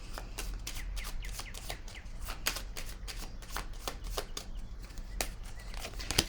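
Tarot cards are shuffled close by, a dense stream of quick riffling flicks and papery slaps with a steady rhythm over a soft hum, no voices.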